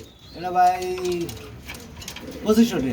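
Pigeons coo in low, throaty bursts close by, with a pair of black pigeons among the birds for sale, and a second coo arrives near the end.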